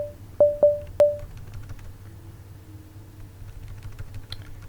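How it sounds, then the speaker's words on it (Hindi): Three sharp, ringing keystrokes on a computer keyboard enter a command in an Ubuntu terminal, followed by a few faint, scattered key taps in a quiet room. "यहाँ पे हम कमांड लिखेंगे"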